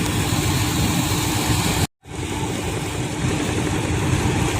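Ship engine of the large vessel MV Orion Star as it departs port, a loud continuous low rumble with broadband mechanical noise, cut by a brief silent dropout before resuming steadily.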